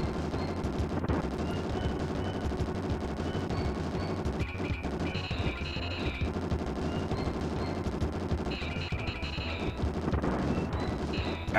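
Missile launchers firing in the SNES game Bazooka Blitzkrieg, a dense, continuous barrage of rapid gunfire and blasts with short electronic tones cutting through, loud and unbroken throughout.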